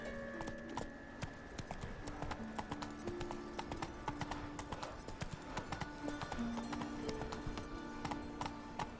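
Roach, the horse in Witcher 3, gallops with a steady fast clip-clop of hooves across the whole stretch, close and continuous, under game music tones.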